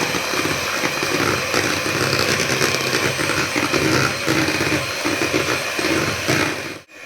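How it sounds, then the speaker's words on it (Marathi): An electric beater mixing milk and cream for ice cream whirs continuously for several seconds, a steady buzzing mechanical drone that cuts off abruptly at the end. "मी याला चम्मचच्या साह्याने न करता ना थोडस बिटर मशीननी करून घेणार आहे"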